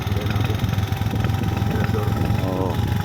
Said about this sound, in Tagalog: Andar na. Andar yung motorboat namin.